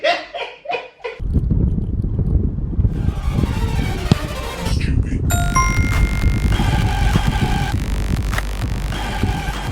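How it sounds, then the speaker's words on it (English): Wind blows outdoors at a football shoot-off, a steady, loud rumbling buffet that takes over after a short burst of talk at the start. "It's windy today, but I'm going to use that wind to my advantage."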